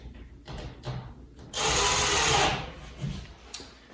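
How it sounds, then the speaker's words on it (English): A power drill drives a 50-pound-rated wall anchor into a wall for a flat-screen TV mount, in one loud whirring burst of about a second, set between quieter handling noises. "I'm going to put this wall anchor in"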